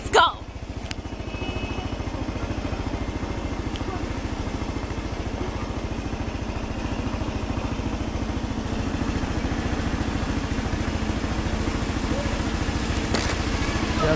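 A motorcycle engine runs steadily throughout, a continuous low rumble with wind buffeting while riding, after a brief sharp noise at the start.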